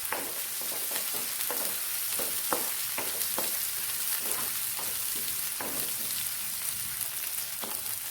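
Medium onion and curry leaves sauté in a pan for a Kerala-style beef roast, with a steady hiss of frying oil and intermittent spatula scrapes and taps. No voices.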